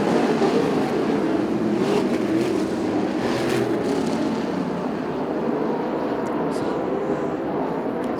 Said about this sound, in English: These non-wing sprint cars ripping the top side of the racetrack once more